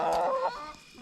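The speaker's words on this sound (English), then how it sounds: "Mildred here is a golden cuckoo Marans" A golden cuckoo Marans hen gives a brief, close cluck-like call lasting under half a second, then fades into quiet background.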